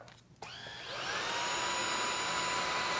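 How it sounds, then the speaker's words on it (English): A Riccar R65 cordless stick vacuum switches on with a click and its motor whirs up to a steady, loud, high-pitched drone that holds to the end, with no one talking. "Another thing people my age really appreciate about this vacuum is you do not have to hold the trigger in as you're vacuuming."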